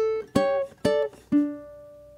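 Ukulele fingerpicking the final bar of an Eastern melody: three plucked, harmonically rich notes spaced about half a second apart, the last one ringing out and sustaining as it slowly fades, played alone and close.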